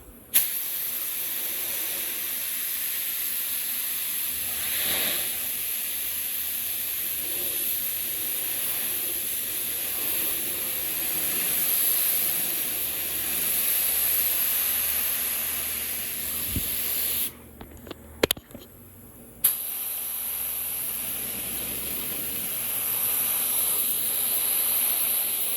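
An airbrush spray gun paints a lace pattern fade on a motorcycle tank, giving a steady close hiss that runs almost unbroken, with a brief pause and a few clicks partway through.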